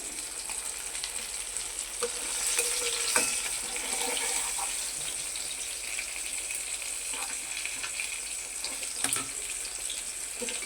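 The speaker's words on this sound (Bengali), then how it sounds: "এই যে মাছগুলো ভাজা হয়ে গেছে জ্যান্ত মাছ তো বেশি কড়া করে ভাজবো না" Soft, steady sizzling of fish frying in oil, with occasional spits and crackles, close by and with no talking.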